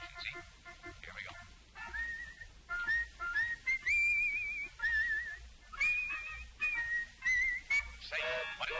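A warbling whistled melody of "I've Been Working on the Railroad" rises in repeated phrases over soft organ accompaniment, fairly faint and steady throughout.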